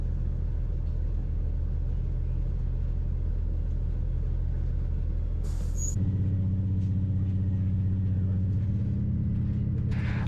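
An Iarnród Éireann train runs from Dublin to Sligo with a steady, heavy low rumble from inside the carriage; the tone shifts partway through as the track sound changes, and a faint high squeal appears briefly.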